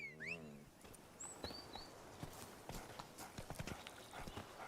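Witcher 3 game audio: the horse Roach whinnies briefly, then its hooves clip-clop in a steady rhythmic trot, fairly faint and close, with a few bird chirps in the background.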